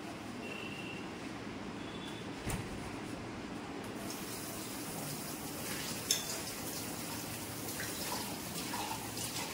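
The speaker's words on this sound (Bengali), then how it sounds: "এগুলো আমি নিজেই মেজে নিই, আমি প্রতিমাদিকে দিই না" Kitchen utensils are scrubbed and washed by hand under a steadily running tap, producing a continuous rush of water with occasional clinks of dishes, close and fairly even, without voices.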